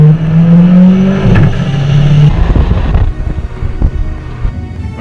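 A 2017 Renault Clio RS Trophy engine revs hard and close, the note rising and falling, with a few sharp exhaust pops and crackles as it settles.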